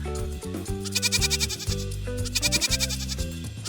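A sheep bleats in wavering, pulsing calls over a backdrop of steady musical tones, with the bleats rising and falling across the clip.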